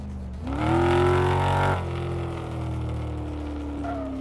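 A big car engine revs in Car Mechanic Simulator, a steady loud drone that swells at the start, then holds a high, even pitch without a break, with no one talking.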